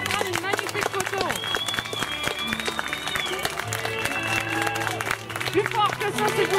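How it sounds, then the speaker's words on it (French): Wedding guests clapping in a loose, continuous round over background music, with voices in the crowd. "On peut les applaudir"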